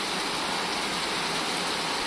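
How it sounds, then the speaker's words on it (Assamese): Heavy drizzling rain falling outdoors, a dense continuous hiss of steady rainfall that stays even and close throughout, with no voices or other sounds above it. "বেছি বৰষুণ সৰসৰীয়া বৰষুণ"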